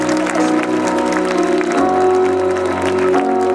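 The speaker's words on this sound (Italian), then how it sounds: "L'applauso e il saluto per il gruppo folk Brazzallos di Fonni." Applause for the Brazzallos folk group of Fonni at an international folklore festival in Sardinia, dense sustained clapping from a large outdoor crowd with music tones underneath.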